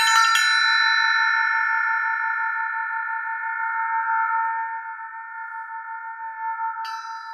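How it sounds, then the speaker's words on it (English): An elephant bell, struck once, rings out bright and clear with sustained overtones that slowly fade and gently pulse, then a second light tap near the end, close and alone. "Like here's a bell. I don't know why this is called an elephant bell"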